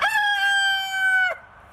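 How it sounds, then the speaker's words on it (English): A backyard hen lets out a single long, drawn-out call, close and clear, that ends abruptly into quiet, with no talking. "you will see the chickens"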